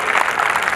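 An audience claps loudly at a Hindi comedy poetry show, with dense, steady applause filling a brief moment.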